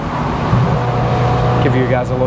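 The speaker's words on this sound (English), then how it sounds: "I'm gonna downshift through this tunnel right here" Ferrari F355 GTS engine downshifting inside a tunnel, a steady loud engine drone with a rising rev blip near the end, heard close from the cabin with some talk mixed in.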